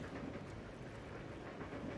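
A runaway train in the Resident Evil 0 HD Remaster video game rumbles steadily with a dense, continuous low roar and faint rattling, constant and fairly quiet with no voices.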